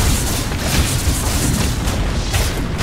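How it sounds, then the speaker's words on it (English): A tower crumbles in the game Dota 2 with a loud, dense booming crash mixed into the continuous din of battle. "Dire's middle tower has fallen."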